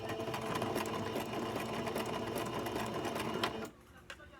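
An embroidery sewing machine stitches in a steady rapid whir of needle strokes, close and continuous, then stops abruptly near the end, leaving a faint click in the quiet.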